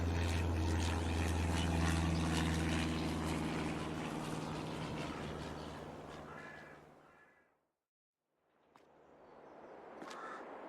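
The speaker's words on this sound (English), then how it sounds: "Damn aeroplanes. All that sky to choose from." Propeller aeroplane passing low over a farmhouse in rural Iowa, a loud steady drone with low harmonic hum that slowly fades away to silence, followed by faint background sounds.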